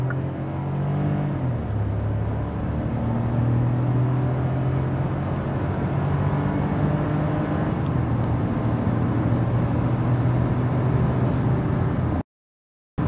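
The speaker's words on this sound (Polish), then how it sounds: "pedał w podłogę i sport" A Hyundai Kona accelerates at full throttle in sport mode from about 50 km/h, its engine drone rising steadily inside the cabin, with a brief shift dip early on before the note climbs again, steady and prominent until a sudden cut.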